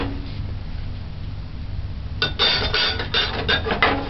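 A lid laid over a pot of coconut potato callaloo as it cooks on low heat, heard as a run of light metallic clinks and taps in the second half after a quiet, hissy stretch.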